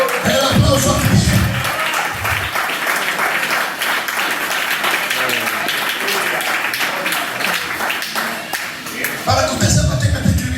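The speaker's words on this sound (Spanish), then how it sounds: "El aplauso a Cristo" A church congregation claps during a Spanish-language sermon, a dense, steady patter of applause filling the space for several seconds, with a preacher's voice speaking at the start and end.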